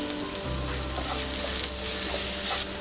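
Onion with green chilli sizzles steadily in hot oil for a Marathi pumpkin curry, a continuous close frying hiss with faint stirring clinks and no voices.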